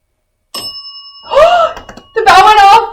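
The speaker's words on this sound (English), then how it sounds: "The bell went off!" A typewriter bell gives a single bright ding that rings on and fades, followed by excited voices.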